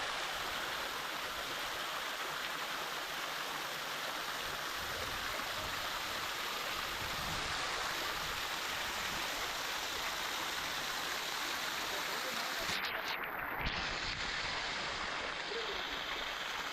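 Anjaram Falls near Kodaikanal pours in a steady, dense roar of rushing water, constant and fairly loud throughout with no voices standing out.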